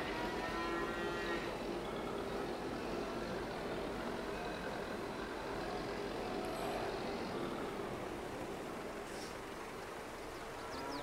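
Cows mooing in Farming Simulator 22 on a farm being fed TMR, low drawn-out calls blended into a steady bed of engine and machinery noise, with faint beeps, fairly quiet overall.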